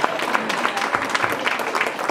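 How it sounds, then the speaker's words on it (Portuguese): A church congregation applauding during a youth worship service, a dense steady wash of clapping over about two seconds with a faint voice mixed in. "Agora sim, pode aplaudir o Senhor."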